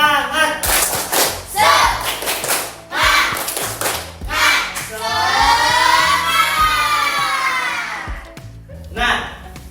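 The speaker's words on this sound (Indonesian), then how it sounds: "mari kita bersama-sama tepuk semangat" A classroom of students performs a rhythmic group clap pattern of short, patterned bursts of hand claps separated by pauses, with a teacher's voice and children's voices heard between and over the claps.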